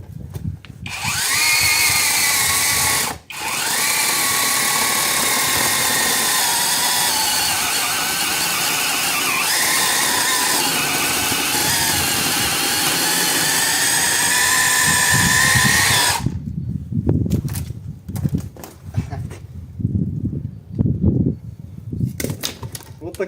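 Heimerdnger LB192 cordless two-handed chainsaw with a 12-inch bar cutting wood, a loud, steady high whine for about sixteen seconds with a brief dip, then stopping into scattered clunks and rustles.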